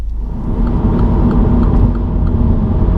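A Mini F56 Challenge 210 fitted with new lowering springs cruises along the motorway, producing a steady loud low road rumble and tyre roar inside the cabin, with no talk.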